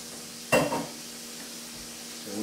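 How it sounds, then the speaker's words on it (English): A spoon stirring quick grits in a pot of boiling water, one brief scraping swish near the start against a steady low simmering background, with a faint stir again at the end. "And we're just going to stir this until it thickens up"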